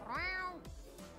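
A cat in the Boyfriend Dungeon video game gives one clear, drawn-out meow, close and distinct, followed by faint soft thumps.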